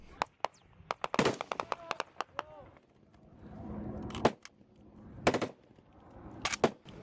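Gunfire from Taliban fighters aimed at a joint US and Royal Marine patrol: scattered sharp shots and short bursts crack out irregularly, some close and loud, others fainter, with voices talking between them.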